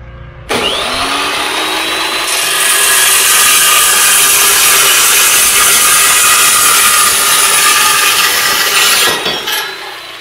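A power tool starts up and cuts through a steel trailer hitch, a loud continuous high-pitched grinding whine for about nine seconds before stopping abruptly.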